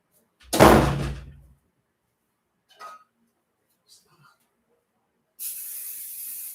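A door slams shut with a sharp, loud thump, followed by a few faint knocks and a soft hiss later, with no talk.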